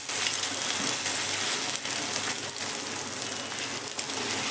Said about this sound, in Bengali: ডিমটাকে প্রথমে হতে দেবো একটা পিঠ।